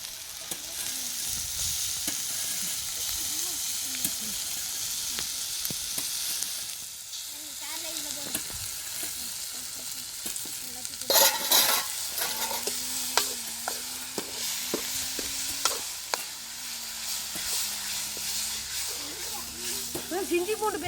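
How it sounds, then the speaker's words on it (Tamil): Ginger garlic paste stirred into frying onions for chicken gravy brings a close sizzle and a scraping spoon in the pan, with a person speaking intermittently over it. "இது நம்ம வந்து இப்போ இதுக்குள்ளே கொட்டி நல்லா கலக்கிடலாம்."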